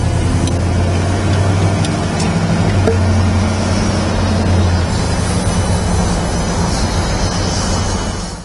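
1967 Pontiac GTO on the move, a steady low engine drone with road and wind rumble heard from inside the car, loud and continuous throughout.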